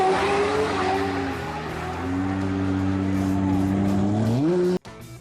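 An automatic car's engine revs and pulls away, its drone holding steady and then rising in pitch for about five seconds before cutting off abruptly, loud and close.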